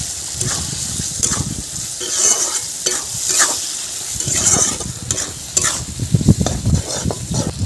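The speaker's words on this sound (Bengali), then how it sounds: "এখানে আমি 2 মিনিট সব রকম মশলা কষিয়ে নিয়েছি।" Tomatoes, salt, turmeric, chili powder, green chilies and ginger paste fry loudly in a pan while being stirred, with a bubbling sizzle and repeated rhythmic scraping strokes of a spoon, close up and with no talk.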